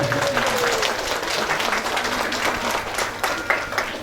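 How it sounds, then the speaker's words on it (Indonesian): Audience applause for children at an Islamic religious lecture, a continuous crowd clapping that holds steady and thins slightly toward the end, with faint talk underneath. "Tepuk tangan buat anak-anak kita."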